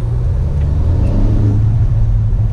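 A Ford Focus ST with a manual gearbox pulls in sixth gear on a freeway, its engine a steady, loud, low rumble as it accelerates under turbo boost.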